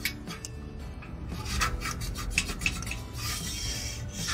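Brush spreading grease along the track of a sliding patio door, a close, steady scratchy rubbing with quick back-and-forth strokes, continuous and fairly loud with no talk over it.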